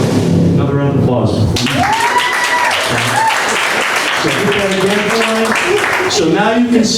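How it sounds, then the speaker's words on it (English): Heavy audience applause rolls on for several seconds at a music fundamentals lecture, loud and steady, with voices and cheering woven through the clapping. "Another round of applause."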